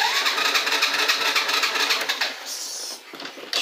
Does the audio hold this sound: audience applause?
no